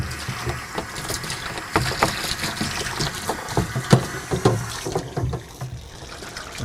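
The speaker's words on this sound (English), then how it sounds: "I'm going to give this a rinse." Water splashes and sloshes inside a plastic wine fermenter as it is rinsed out, a close, irregular churning that fades toward the end.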